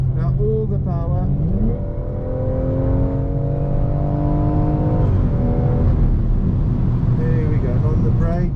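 A BMW M240i accelerates hard on a race track at Zwartkops Raceway, its engine note climbing steadily with rising harmonics, a brief shift partway through, then pulling strongly again, close and loud from inside the car.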